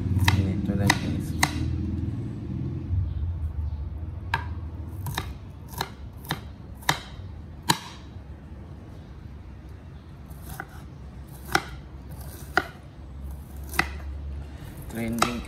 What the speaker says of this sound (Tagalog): So gagawin muna natin yung paghiwa ng sibuyas para ihalo dyan.